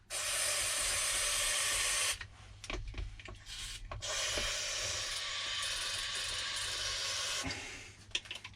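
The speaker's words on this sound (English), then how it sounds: "I just squirt some contact cleaner track because there's no way I can get into this motor." Aerosol contact cleaner sprayed into the front heater blower motor of a Citroen C4 Grand Picasso: a loud, steady hiss for about two seconds, a pause with small clicks and rattles, then a second long, close burst of spray.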